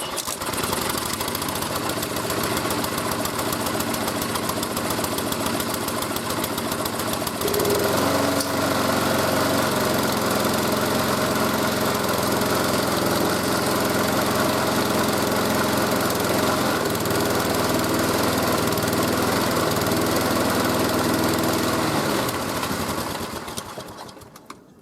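An old Husqvarna lawn mower engine runs loud and steady throughout, with a clear shift in its note partway in as it settles into a constant drone before cutting off at the end; no speech.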